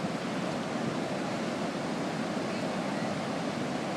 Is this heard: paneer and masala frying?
no